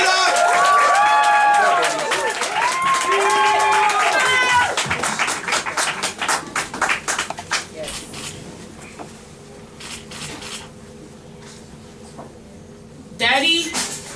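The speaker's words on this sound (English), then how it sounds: "Clap as Simone makes her way to the microphone." A poetry slam audience applauds and cheers poet Simone as she walks to the microphone, a dense burst of clapping with whoops that thins into scattered claps. An announcer speaks loudly over the crowd at the start.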